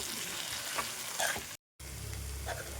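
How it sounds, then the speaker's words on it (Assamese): Boiled sweet potatoes sizzle in a pan while being stirred and fried, a close crackling hiss with scraping strokes, cut by a brief silent gap before the frying resumes. "আৰু এয়া ভালদৰে লৰাই ভাজি থাকিম।"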